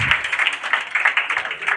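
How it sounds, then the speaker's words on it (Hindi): Audience applause at a Bihar Board 2025 district toppers' award ceremony, a steady patter of many hands clapping close by, continuous and fairly loud throughout. "ताली हो जाए भाई"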